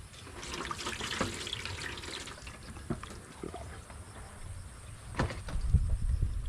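Meat pieces cut for a sweet potato and chicken adobo are rinsed under a running kitchen tap, a steady wash of water with irregular splashes and knocks in the sink, louder near the end.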